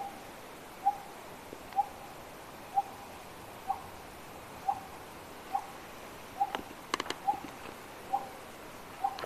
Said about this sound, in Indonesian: Masih ada burung.